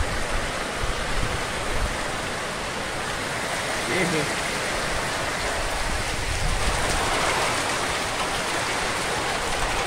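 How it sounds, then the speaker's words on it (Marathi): Heavy rain pours steadily throughout, a dense continuous hiss of falling water with no pauses, fairly close and loud. "पाऊस तर जे आहे खूप यायला लागलाय हळूहळू तुम्ही पाहू शकता"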